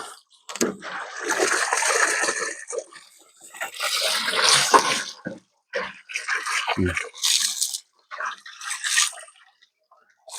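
Water splashes and pours intermittently, with bursts of running water and scrubbing, and a voice talks between the splashes.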